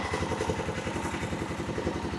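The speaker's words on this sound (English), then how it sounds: "Dude, it's just sitting here idling." A Honda quad engine with its air filter removed idles steadily, a low rhythmic chugging pulse with light clatter, fairly quiet and heard alone.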